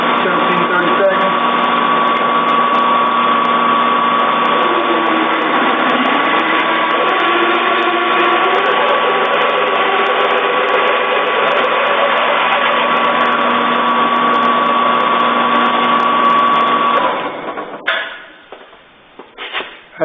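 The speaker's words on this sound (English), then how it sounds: "drilling to the final diameter of 17/32." A steady, loud drill whine with a constant high tone as a hole is drilled in a metal engine adapter plate, then cuts off near the end, leaving a few clatters.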